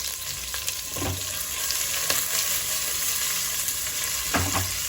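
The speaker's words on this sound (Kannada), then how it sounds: "ಈರುಳ್ಳಿ ಚೆನ್ನಾಗಿ ಫ್ರೈ ಆಗಲಿ ಅಂತ ಹುರಿದಿದ್ದೀನಿ ಸ್ವಲ್ಪ" Onion fries in oil with mustard seeds and dried curry leaves, making a steady close sizzle punctuated by a few soft knocks of stirring against the pan.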